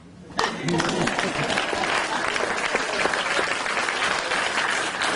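Town hall crowd breaks into sudden applause after a budget win is mentioned, dense continuous clapping starting abruptly and holding steady, with some voices mixed in.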